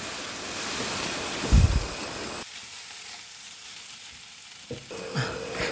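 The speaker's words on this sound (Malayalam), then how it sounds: "വെണ്ടക്കായ വഴറ്റി വച്ചേക്കണത് ഇട്ടു നന്നായിട്ട് ഇളക്കുക" Okra masala curry sizzles and gets stirred in a pan, a steady hiss with a scrape near the middle, then the frying noise drops away for a couple of seconds before returning.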